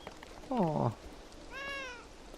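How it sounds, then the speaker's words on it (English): Two sad, drawn-out cat meows in a rainy scene from the video game Beyond Eyes, the first lower and louder, the second higher and softer, with quiet background noise between. "It's amazing how sad cats can sound."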